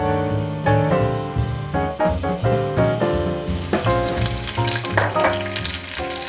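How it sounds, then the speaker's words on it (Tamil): Mustard seeds, with urad dal and curry leaves, sizzle and splutter in hot oil for tomato chutney, crackling steadily with scattered sharp pops up close. "கடுகு வெடிக்கணும், அதுதான் ரொம்ப முக்கியம்"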